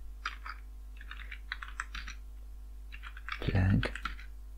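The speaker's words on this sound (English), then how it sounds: "Now open terminal and type sudo apt-get install" Keystrokes on a computer keyboard entering a Linux terminal command, heard as several quick bursts of close clicking separated by short pauses, with a louder thump near the end over a steady low hum.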